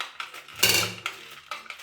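Almonds rattle inside a closed hand chopper, a few short clacking knocks and one louder crunching burst of chopping, close and alone.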